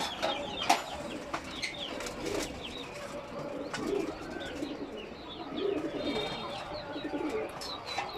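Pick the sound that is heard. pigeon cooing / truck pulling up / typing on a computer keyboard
pigeon cooing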